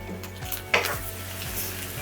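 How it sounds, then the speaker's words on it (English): Mushrooms and onion sizzle steadily in hot oil during a veggie stir fry, with a soft hissing bed broken by a sharper spatter and scrape of stirring near the middle. "Can you hear me over the sizzle?"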